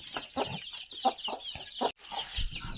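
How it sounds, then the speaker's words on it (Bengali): Hens cluck close by in short, choppy bursts with brief pauses, a steady run of clucks over a couple of seconds. "এটার নিচে রয়েছে আরও একটি দেশি মুরগি, বড় মুরগি"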